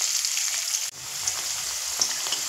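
Potatoes seasoned with turmeric and salt sizzle in hot oil over a medium flame, a continuous bright crackling fry with a short dip partway through, close and steady, with no talking.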